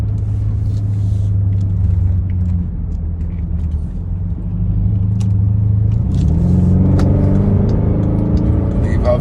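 Engine of a 2014 Dodge Durango pulling hard on a highway: a steady low cabin rumble that rises into a building, revving growl, heard from inside the vehicle with no one speaking.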